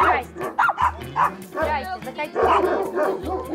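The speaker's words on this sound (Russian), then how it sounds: "Собаки, собаки." Several dogs bark and yip at a stable yard near horses, the barks coming in short bursts close by and mixed with people talking over them.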